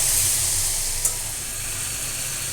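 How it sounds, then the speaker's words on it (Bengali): Eggplant and potato sauté with spices in a pan, giving a loud, even sizzle up close, broken once by a brief clink of stirring, with no one talking. "বেগুন আলু মশলা কষিয়ে দিয়ে দিলাম। এটা একটু কষিয়ে নিব।"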